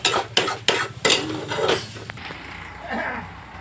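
Egg bhurji with onion, turmeric, salt and oil being stirred in a pan: a few sharp metallic scrapes and clinks of a spoon against the pan, close by, with a light sizzle fading underneath.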